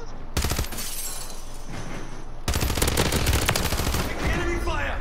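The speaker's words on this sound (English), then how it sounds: "Enemy fire!" Rapid bursts of automatic gunfire from an online shooter game firefight, loud, dense and continuous with a brief break before a heavier second volley; shouting voices are faintly mixed in.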